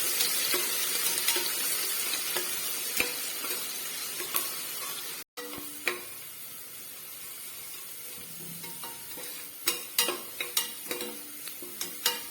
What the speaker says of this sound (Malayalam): ബിരിയാണി ഗാർണിഷ് ചെയ്യാനായിട്ടുള്ള സവാളയൊന്ന് വറുത്തെടുക്കാം